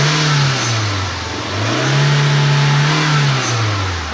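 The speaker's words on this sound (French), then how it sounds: "je vais vous faire écouter le bruit du moteur" A powerful V16 car engine revs loudly up and down in several swells, rising and falling in pitch, close by with no talking.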